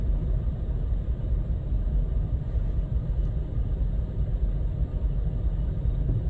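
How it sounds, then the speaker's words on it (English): A Loram rail grinder train rolls past, filling the air with a loud, steady low roar and rumble that holds evenly for several seconds without pause or voices. "The Loram Rail Grinder is back."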